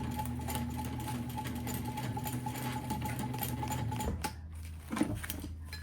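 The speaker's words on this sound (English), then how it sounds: "just basting across only that zipper" Domestic sewing machine running a rapid, even stitch for basting across a zipper on a fabric pouch, close and continuous for about four seconds before stopping, followed by a soft clunk of handling.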